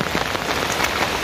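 Steady rain falls on a surface nearby, a brief, dense, even patter of drops with no voices.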